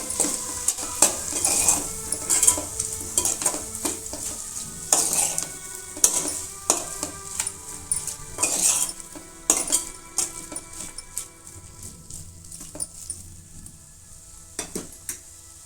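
A spoon stirs bitter gourd curry in a hot pan while oil sizzles steadily underneath, with repeated metallic scrapes and clinks against the pan, close up and without talk.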